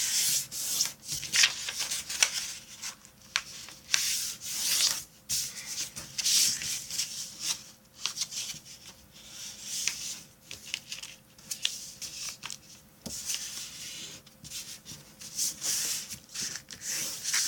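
Paper is rubbed and pressed into sharp folds up close, soft scraping and rustling strokes that come in uneven bursts, quiet and without speech.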